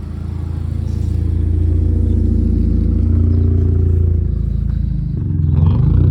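Toyota MR2 with a straight-pipe exhaust pulling in, a loud, rough idle and low rumble that swells with light throttle, the engine clattering close by throughout.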